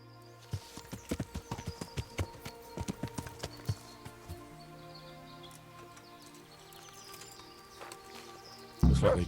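Horse hooves clip-clopping in the medieval game Kingdom Come: Deliverance, a run of distinct hoofbeats on a hard track that thins out over time, under faint birdsong and ambient tones, ending in a brief loud burst.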